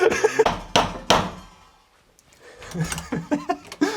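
Knocks on a very secure front door during a house tour, several loud, sharp raps in quick succession near the start, with people talking and laughing around them.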